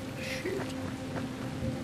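Steady rain during a thunderstorm in the zombie game Dying Light, a continuous hiss of falling rain that stays even throughout, with faint tonal game sounds beneath and no talk.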